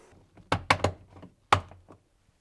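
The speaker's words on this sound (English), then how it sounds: "You can then fit the covers at the top, making sure they click into place." Plastic covers at the top of a fridge interior snap into place, giving a few sharp close clicks and knocks in quick succession, then one more a moment later, in a quiet room.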